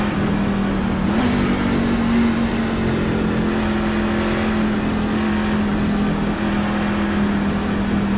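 A race truck in the iRacing NASCAR Craftsman Truck Series game at Talladega drones with a steady engine whine, and another vehicle's sound briefly swells past early on, continuous and loud, with no speech.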